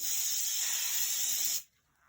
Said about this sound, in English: I have a spray adhesive, and I'm going to spray that card with this spray adhesive